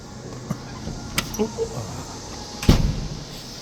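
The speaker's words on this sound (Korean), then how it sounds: "문을 열자, 문 열자" A few faint clicks, then a solid thud and rattle of a car door being opened nearby, with quiet background hum.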